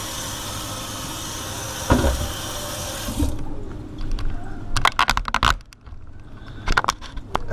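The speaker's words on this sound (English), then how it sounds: "We're going to give this a good rinse." Goose pastrami pieces rinsed under a running kitchen tap, a steady close rush of water that cuts off, followed by wet handling clatters and splashes in a sink.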